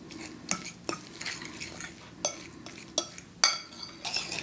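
A fork mashes canned sardines in a bowl, making irregular metallic clinks and scrapes against the dish. The strokes come close and distinct, with short pauses between.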